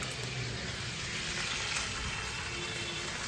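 Grated onion frying in a pan with dried chilli, making a steady, fairly quiet hiss and sizzle that continues without a break.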